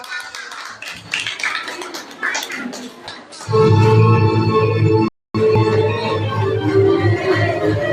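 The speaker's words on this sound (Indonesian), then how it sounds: "Beri tepuk tangan yang meriah." Brief, scattered clapping from a school audience after a sixth-grade children's soldier dance at an elementary school farewell show lasts about three seconds, then gives way to loud music.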